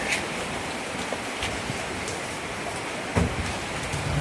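Rain falls steadily outdoors at a roadside stall, a soft continuous hiss of drops on surfaces with a brief thump partway through and faint background activity.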